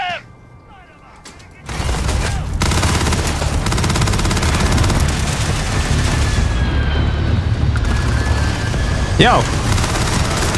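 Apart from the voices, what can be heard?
gunfire in video game Starfield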